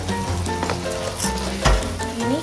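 Fried idli is stirred into a thick sizzling sauce in a pan, giving a close, steady sizzle broken by the scrape and clack of a spoon as the pieces are tossed.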